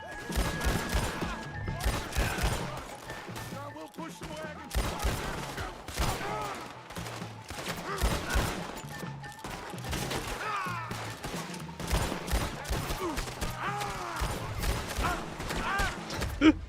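Gunfire in the video game Red Dead Redemption 2 during a train heist: rapid, repeated shots and bursts from several weapons throughout, moderately loud, with occasional thuds and faint talk in the background.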